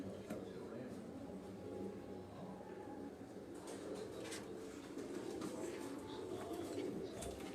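Pigeons cooing on a rooftop of a farm house in Sialkot, soft low coos drifting over a steady outdoor hum and faint distant noise, continuous and fairly quiet throughout.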